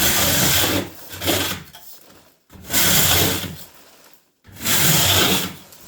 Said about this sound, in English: We usually use this for floors, but you can see it just scrapes it off real nice